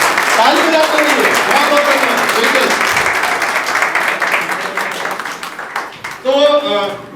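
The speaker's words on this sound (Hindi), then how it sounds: "ताली बजाते रहिए।" A crowd at a team celebration event in Amarkantak applauds, a dense, loud wash of many hands clapping, with voices talking and calling out over it and a louder voice near the end.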